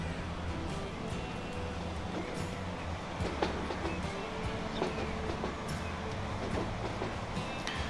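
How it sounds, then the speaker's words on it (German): Intercity train pulling into a station in the Transport Fever 2 game, a steady rumbling rail noise with faint clicking wheel sounds and light squeals, continuous and moderately loud throughout. "Das ist ein Intercity, der gerade aus Königsburg kommt. Einfahrt auf Gleis 6."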